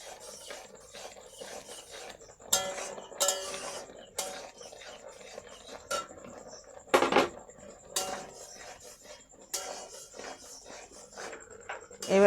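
Roasted semolina is stirred into a mixture in a pan for raw mango naru, with gritty scraping and rubbing of a utensil against the pan in irregular strokes, moderately close and fairly quiet.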